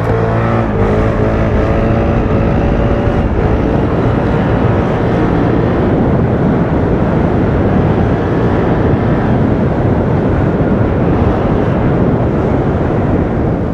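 A Piaggio Vespa 300 GTS scooter held up on its back wheel, engine droning loud and steady throughout with rising and falling revs, close-up with heavy wind buffeting.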